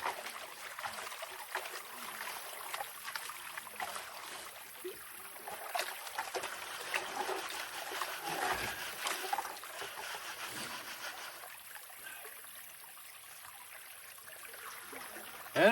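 A gold-prospecting find swished and rinsed in a pail of water, steady soft sloshing and trickling with small splashes, close and fairly quiet throughout.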